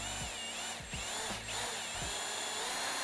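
A power drill bores holes through the boot lid of a BMW G87 M2 or G42 M240i, steady whine running close and loud throughout, with short motor pulses and bit catches as it works through the panel.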